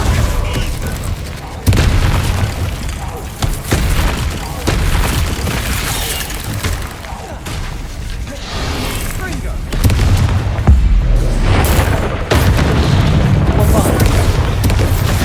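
Spell blasts and explosions from Hogwarts Legacy crash out one after another in heavy, booming bursts. Shouted incantations come between and over them, and the loudness swells repeatedly across a long stretch of combat.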